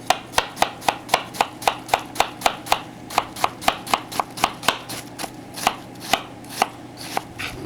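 A knife dices vegetables on a cutting board in quick, even strokes, a steady run of crisp close taps at about three per second with brief pauses.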